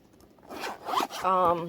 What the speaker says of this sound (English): Even the little zippers are just gorgeous.